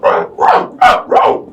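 Hyenas used as a tabletop role-playing game sound effect: four loud, close, harsh barking yelps in quick succession, each a rough rising-and-falling call with a hissing edge.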